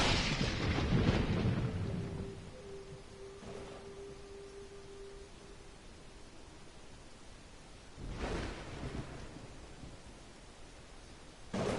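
Rolling thunder and steady rain in a video game, with a heavy rumbling crash at the start, a softer hiss of rain through the middle, and a second thunder burst near the end.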